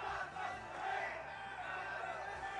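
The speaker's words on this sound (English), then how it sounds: "You hear that crowd out there." Tournament crowd at a fighting-game grand final (Ehrgeiz at CEOTAKU 2023) roars and shouts in a sustained, dense wash of voices, loud and steady across the moment.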